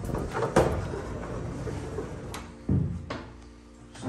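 A soft click as a pocket door's push-button latch comes out, then the door sliding and bumping, a couple of lighter knocks and a faint rolling sound, all close by.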